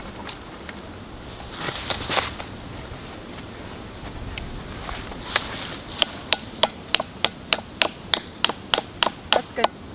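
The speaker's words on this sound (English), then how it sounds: "when you hammer it in and it goes dink, dink, dink, and then you hear thunk" A metal tap spile is hammered into a maple tree: after scattered taps and rustling, a rapid series of sharp, evenly spaced metallic strikes rings out close by, growing steadier toward the end.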